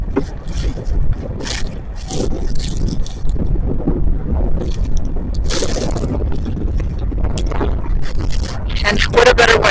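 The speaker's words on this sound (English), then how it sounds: "It is very windy and frigid out here." Strong, frigid gusting wind buffets the microphone in rough, rumbling bursts outdoors near a flag, with a person speaking faintly amid the blustery noise.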